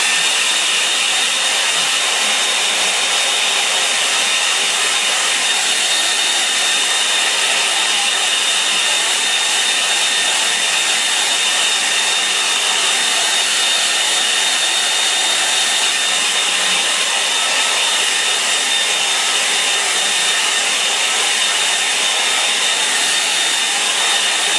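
A hair dryer blows steadily over wet watercolour paint on a simple snow-scene painting, a constant close, loud, hissing whoosh lasting the whole stretch with no break and no voices.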